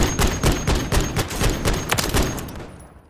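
Three-round burst rifle in the shooter game MW3, firing rapid, loud, close shots grouped in quick bursts with a slight rhythm to the grouping, then a quieter fading tail.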